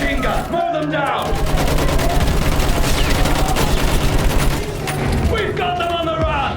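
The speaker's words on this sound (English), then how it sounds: "Use that machine gun. Mow them down." Sustained machine gun fire in the World War I shooter Battlefield 1, dense overlapping bursts and explosions from trench combat, loud and continuous with shouted voices mixed in.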